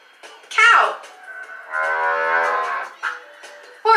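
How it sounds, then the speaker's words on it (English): A single cow moos in a long, drawn-out low call, framed by brief bursts of sound before and after. "Cow."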